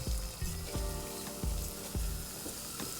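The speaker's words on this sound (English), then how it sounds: "So now we are going to fry the sage leaves." Sage leaves frying in a pan give a steady soft sizzle, with a low bubbling thump about every half second under the crackle, heard close and fairly quiet.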